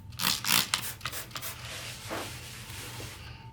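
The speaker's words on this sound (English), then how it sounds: "we're going to spray it down and then wipe with this clean paper towel well for each quadrant" Bleach cleaner sprayed onto a surface, then wiped down with a clean paper towel: a few soft spray bursts and rustling, scraping wipe strokes, close and fairly quiet, with no talking.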